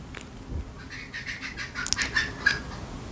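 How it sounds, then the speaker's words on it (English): Soft clucking and squawking from chickens outdoors, a series of short calls at a distance over faint background noise. "I hear the chickens making noise outside."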